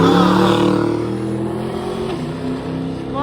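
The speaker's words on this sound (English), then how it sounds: "Spun the tire" A drag race car roars close by as its tire spins on launch, the engine note loud and sustained before easing off slightly as it moves away.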